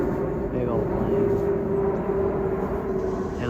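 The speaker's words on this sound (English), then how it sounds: "Big old plane." A large airplane passes overhead, a steady broad roar with a faint tonal whine, heard continuously outdoors at moderate distance, with a person talking over it.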